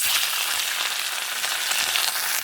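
Pieces of fish, for a Bengali home-style rohu fish curry with potato and pointed gourd, fry in hot oil with a loud, steady, dense sizzle and crackle throughout, close up and with no voices.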